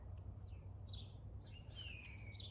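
A blue jay mimics a hawk, giving thin descending screech-like calls outdoors, fairly distant over a steady low background hum, with no talking.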